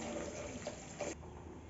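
Water pours and splashes briefly into a cooking pot, quiet and close, then the flow tapers off.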